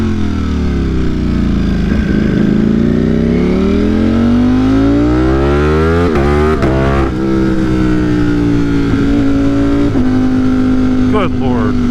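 A tuned motorcycle accelerates hard, engine pitch climbing then dropping with each quick short shift through the gears, loud and close with constant wind rush over the rider's microphone.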